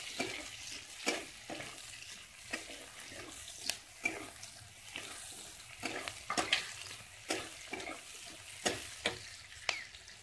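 Onions fry in a pan after prawns, for a prawn and potato curry, a soft sizzle broken by repeated scraping strokes of a spatula at a fairly regular pace, close by with no talk.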